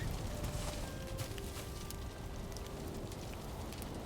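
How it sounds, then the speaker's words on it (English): Steady rain falls in the video game Valheim, a dense, even hiss of drops pattering on surfaces that holds throughout with no pauses, no talk, and faint tonal game sounds in the background. "Oh, it's raining."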